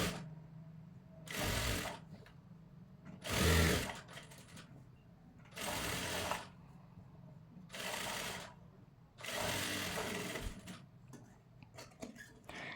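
Sewing machine stitching the lining of a kids' jumpsuit, running in five loud bursts of steady whirring with quiet pauses between them.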